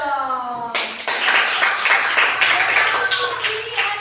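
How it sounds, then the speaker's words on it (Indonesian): Students in a classroom break into applause, a burst of dense hand clapping that starts sharply after a short voice and keeps going at a steady, lively pace to the end. "Nah, kita beri tepuk tangan dong."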